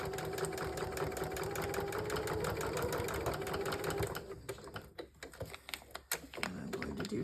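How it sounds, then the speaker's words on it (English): A sewing machine runs steadily, its needle chattering in a rapid even rhythm while stitching squiggly lines across fabric strips, then it slows into short uneven bursts with a few clicks and pauses. "I'm just going to go to stitch in squiggly lines"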